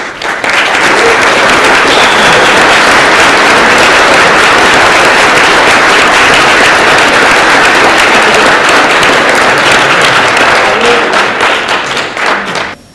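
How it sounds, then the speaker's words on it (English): A standing audience at a business club event in Dublin gives loud, sustained applause to welcome a speaker to the stage, a thick continuous roar of clapping that tapers near the end. "please be upstanding and give Brent a massive round of applause"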